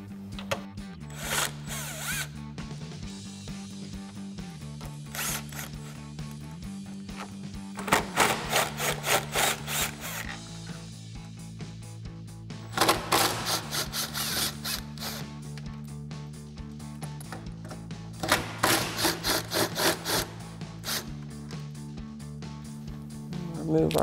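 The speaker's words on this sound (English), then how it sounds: "again using our 13 mil socket and extension on our ratchet." A ratchet with a 13 mm socket and extension removes the factory spare tire carrier bolts on a Jeep Wrangler JL, giving several bursts of rapid clicking close by, separated by pauses, while someone talks throughout.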